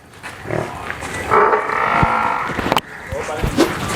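A low water buffalo moo rises briefly amid a farmyard bustle at a buffalo sale, with people talking nearby.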